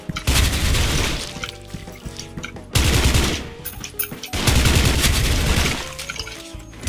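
An M4A1 SOPMOD rifle in the video game Special Force 2 fires three loud bursts of rapid automatic shots, each trailing off into a busy background of game effects.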